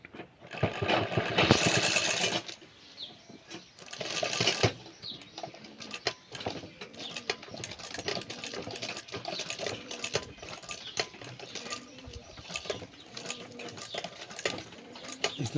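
A sewing machine stitches an old school bag to lock the seam, making close, rapid mechanical clatter in bursts, with louder runs near the start and lighter stitching after.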